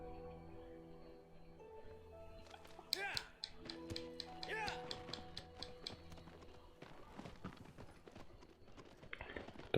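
Horse hooves clip-clop in a quick, uneven patter over a steady musical backdrop in the video game Shadow of the Colossus, with occasional louder taps and clicks, moderately close.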